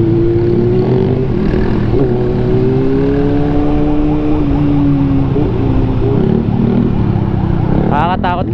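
A motorcycle runs at close range with a loud, steady engine drone whose pitch slides up and down as it changes speed, and brief horn-like tones near the end.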